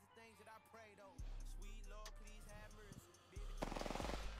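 Bursts of gunfire from the battle royale game Apex Legends crack through layered game sounds and effects, with loud sustained stretches and a rapid rattling volley near the end.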